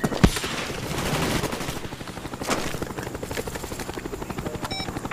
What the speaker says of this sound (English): Cobra on the way.